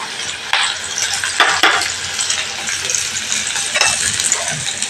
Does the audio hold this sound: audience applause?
no